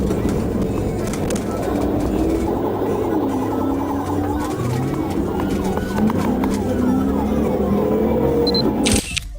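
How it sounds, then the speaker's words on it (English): A police car siren wails with rising and falling sweeps during a chase involving a Dodge Charger, heard amid traffic and bird calls, moderately loud and continuous before cutting off abruptly. "the officer finally activated his emergency lights and sirens"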